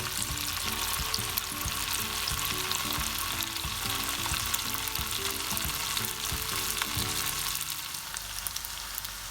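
Battered onion rings frying in a pan of hot oil give a steady, close, loud sizzle that crackles and bubbles continuously throughout, with no voices.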